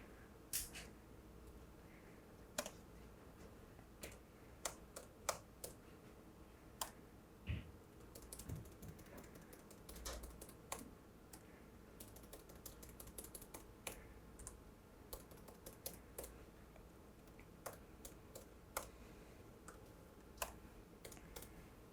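Computer keyboard keys click and tap quietly in an irregular rhythm as menus are navigated, with single keystrokes and short bursts spaced across a long, faint stretch.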